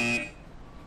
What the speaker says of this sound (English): It's a real loud buzzer for not hitting that house.